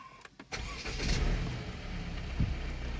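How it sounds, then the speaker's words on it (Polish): Mercedes C238 car engine starting in a workshop: a short cranking burst, then the engine catches and settles into a steady idle with a small rev near the end. "Wszystko porobione, odpalamy samochód."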